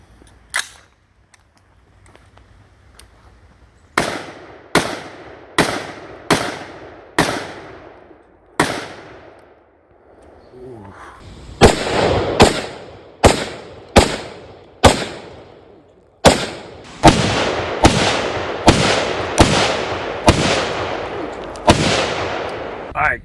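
A rifle fires Swedish green tip rounds into armor plates outdoors, loud sharp reports in spaced single shots and then quicker strings, each ringing out with a trailing echo.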